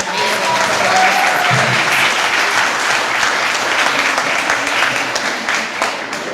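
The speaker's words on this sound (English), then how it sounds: "Just give them another round of applause for their amazing" An audience applauds performers at a Juneteenth flag raising event, a dense, loud wave of clapping that holds steady and then tapers off slightly.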